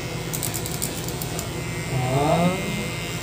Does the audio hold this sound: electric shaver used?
yes